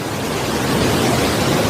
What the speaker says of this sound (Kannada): ನೀರು ನೋಡ್ರಿ ಈಗ ಹೆಂಗೆ ಫುಲ್ ಬರ್ಲತ್ತವ